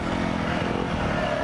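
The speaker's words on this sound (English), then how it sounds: "That was the best wheelie of the day" A KTM 350 dirt motorcycle revving hard as it pulls a wheelie, a steady loud engine drone that holds close and strong for a moment without a break.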